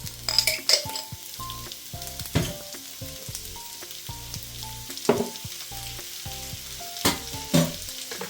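Readymade ginger garlic paste sizzles in a hot pan for a chicken curry, a bright crackling fry broken by clinks and scrapes of a spoon stirring, with some soft background music and no voices.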